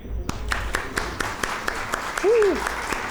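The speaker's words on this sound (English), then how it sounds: "Can we cheer for them?" An audience at a postgraduate diploma convocation ceremony applauds steadily, a dense crowd clapping with a few sharp louder claps and a brief cheer rising over it.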